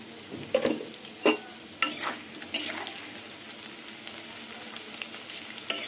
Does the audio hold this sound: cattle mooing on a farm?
no